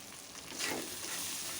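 Turmeric and chili powder hit a hot pan and fry, a brief hiss that swells into a steady, fairly quiet sizzle.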